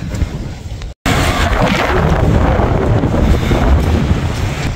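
Strong, cold wind buffets the microphone outdoors in Japan, a loud continuous roar with gusty rumbling that breaks off for a split second near the start.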